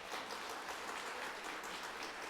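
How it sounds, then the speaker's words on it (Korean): A church congregation claps to welcome new ministers during a Sunday worship service, a steady, fairly quiet wash of many hands applauding evenly for a couple of seconds with no talking. "두 전사님이 여러분을 향해 인사할 때 뜨거운 박수로 환영해 주시기 바랍니다."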